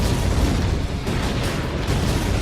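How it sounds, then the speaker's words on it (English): Explosions in the Iron Man 2 video game make a dense, loud, continuous rumbling roar that lasts throughout, with no clear separate blasts and no speech. "The explosions are screwing with the SenseNet."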